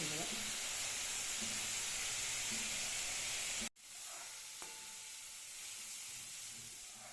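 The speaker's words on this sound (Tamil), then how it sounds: "குழம்பு கொதிச்சிச்சு வெண்டைக்காயை போட்டுக்கலாம்" Okra drops into a pot of boiling kuzhambu and gives a loud, steady sizzling hiss for several seconds. The sound then cuts off sharply to a faint simmer, with one small clink afterward.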